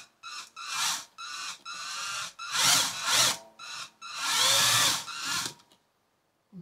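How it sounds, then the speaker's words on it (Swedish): Power drill boring holes for an LPG filler adapter through a motorhome wall about 35 mm thick, several loud close bursts of whirring drilling separated by brief pauses, then silence. "Tar bort den och sen borrar hålen."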